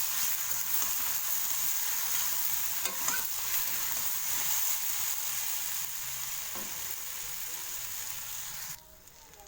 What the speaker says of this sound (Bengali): তো আলুটাকে আমি 2 মিনিটের জন্য হালকা ভেজে নেব।